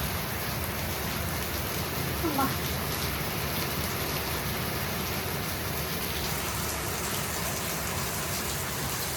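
Rain falls in a steady, dense patter on surfaces, a continuous hiss that stays even throughout with no clear voices.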